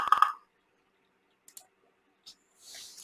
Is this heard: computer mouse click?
yes